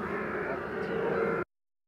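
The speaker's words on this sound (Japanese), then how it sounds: "なぜ郊外の住宅街に大量のカラスがいるのでしょうか。" Many crows caw together in a suburban residential neighborhood in Saitama, a dense, steady clamor of overlapping calls that cuts off abruptly.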